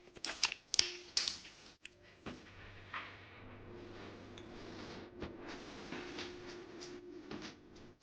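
Fumbling with a small sun protection supplement capsule pack, a quiet run of crisp clicks, taps and crinkly plastic handling close by, with irregular snaps early on and softer rustling afterward.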